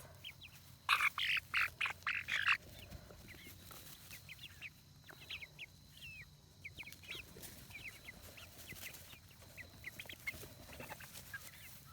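Several chickens cluck and squawk in a loud excited burst, then keep up softer scattered clucking and chirps close by.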